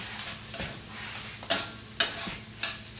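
Ground beef with harissa sizzles gently in a pan while being stirred, soft frying hiss punctuated by a few scraping utensil clicks, no talking.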